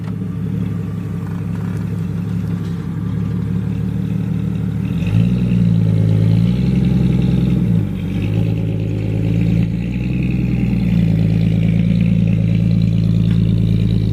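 A Jeep engine idles low and steady, then revs in several surges as it strains to move a 1967 Barracuda, loud and close with the pitch rising and falling between pushes.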